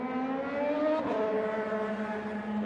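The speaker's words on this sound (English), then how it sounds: "Look at this train of cars coming at you." IndyCar race cars roar past in a continuous stream during Indianapolis 500 practice, engines whining at high pitch with shifting tones as several pass close by in quick succession.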